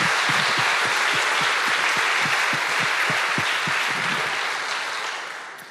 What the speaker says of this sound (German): einen Applaus für den Kandidat